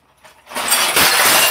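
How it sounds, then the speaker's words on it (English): Glass breaks in an office: after a faint lead-in, a sudden loud crash of shattering glass bursts out and sustains a bright, dense smash to the end, with no talking. "Why'd the glass break like that?"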